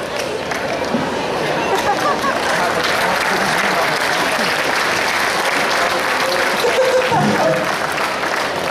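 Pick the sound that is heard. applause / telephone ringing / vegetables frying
applause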